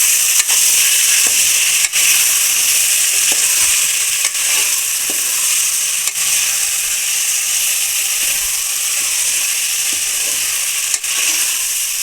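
Mixed vegetables for a wedding-style vegetable pulao fry in hot oil with a loud, continuous hissing sizzle. Occasional clicks and scrapes of a stirring utensil sound against the pan, and there is no talk.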